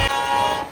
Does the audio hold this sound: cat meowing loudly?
no